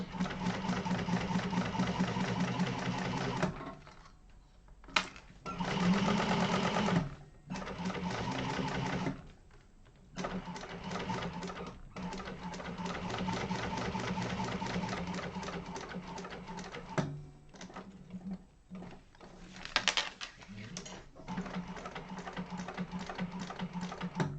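A home sewing machine top-stitches a sling bag in steady whirring runs of rapid needle strokes, stopping and restarting several times, with brief pauses and handling noise between runs.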